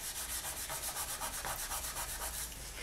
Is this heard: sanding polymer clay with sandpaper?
yes